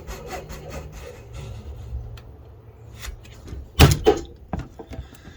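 Wood pieces for a knife box are sawn by hand with short rasping back-and-forth strokes, fairly close, broken by a few sharp knocks and scrapes, with no talk.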